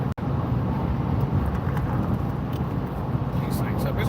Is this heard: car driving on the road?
yes